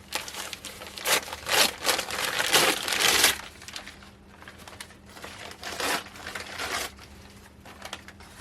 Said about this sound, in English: I'm going to take about half of this paper.